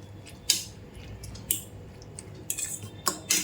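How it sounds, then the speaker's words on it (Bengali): Egg and salt mixed in a bowl: a handful of quiet, wet clinks and scrapes of a utensil against the bowl, spread unevenly over a few seconds, near and soft. "এবার ভালো করে এটাকে মিশিয়ে নেব"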